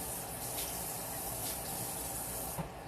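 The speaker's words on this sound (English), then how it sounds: "I'm just washing my cutting board here." A cutting board used for rolling dough is washed under a running kitchen tap: a steady, close rush of flowing water, with brief splashes as the board moves through the stream.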